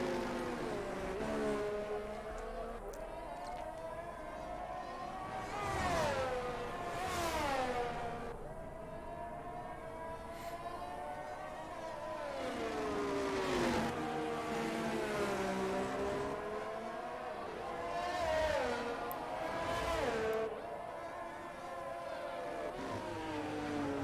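Race cars lap the Bahrain circuit in the F1 2022 video game. High engine whines climb and fall through gear changes as cars pass in repeated waves, fairly faint and with no talk over them.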